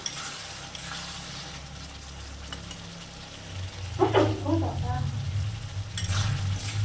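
Potatoes and prawns sautéing in a pan, with a steady sizzle and frying hiss and repeated scrapes of a spatula stirring, the sound growing louder toward the end.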